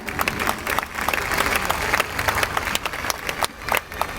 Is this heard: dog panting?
no